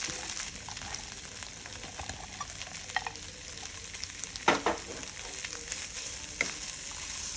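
Long beans stir-fry with pad thai in a hot pan, a quiet continuous sizzle broken by occasional sharper scrapes and clatters of stirring.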